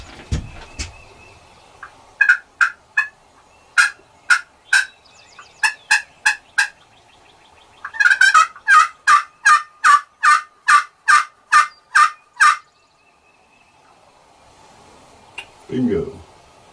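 Wild turkeys in the woods give loud, close bursts of calls: an irregular opening series, then a fast, even run of about a dozen sharp notes, then a low rustle near the end.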